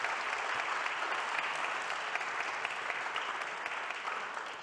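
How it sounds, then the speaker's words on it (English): Sustained audience applause at a European cancer-plan masterclass, a dense, steady wash of many hands clapping at moderate distance, holding evenly throughout with no talk over it. "and I think we can really applaud John and Joanna for their vision."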